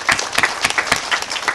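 Audience applause at a Veterans Day ceremony in Patterson, a short burst of dense hand clapping from a crowd, steady and fairly close throughout.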